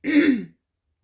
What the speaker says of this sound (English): I apologize for clearing my throat so much